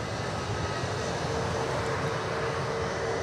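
An Airbus A321neo jet rolls along the runway a few dozen feet away at Dallas Fort Worth, giving a dense, even engine roar with a faint steady whine, loud and continuous.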